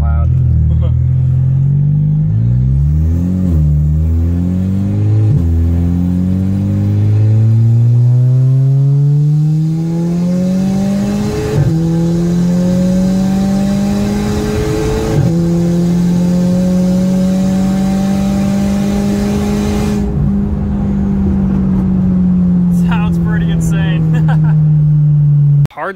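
A TTS fitted with a valved dump pipe roars loudly up close with the valve open, its exhaust note climbing steadily through long hard acceleration pulls with short breaks between gears.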